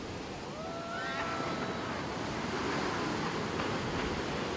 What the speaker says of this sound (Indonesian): The waves here are beautiful.